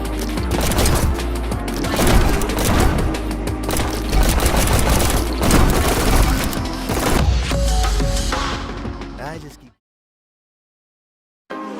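Rapid bursts of gunfire in the video game Neon White, dense loud shots and crashes layered over pounding music for most of the stretch, then cutting abruptly to silence near the end.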